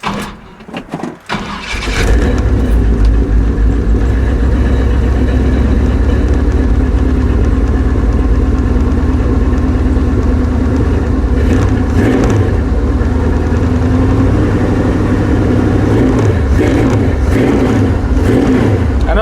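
A Chevrolet C10 truck engine cranks with a few sputtering catches, then fires and settles into a loud, steady run with rising and falling revs, heard up close and alone.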